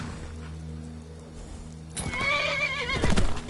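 A horse in Skyrim VR gives a loud, wavering whinny midway through, against a low steady hum, with a few hoof clops as the call fades.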